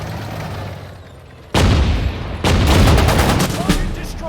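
Gunfire from a Sudden Strike 4 Dunkirk battle, a quiet rumbling background giving way to a sudden loud burst of shots, then a second sustained volley of rapid firing with booms.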